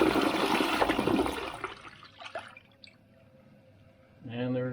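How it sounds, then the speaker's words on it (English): A toilet fitted with a VorMax Plus FreshInfuser flushes in a brief rushing swirl of water that fades to trickles and drips, followed by a voice speaking. "give it a flush."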